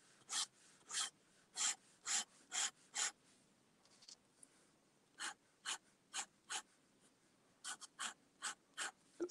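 A drawing pen scratches across paper in short rasping strokes, about a dozen bursts in uneven rhythmic groups separated by brief pauses, close and clear with no talking.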